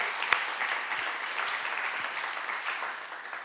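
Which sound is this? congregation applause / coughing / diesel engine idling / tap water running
congregation applause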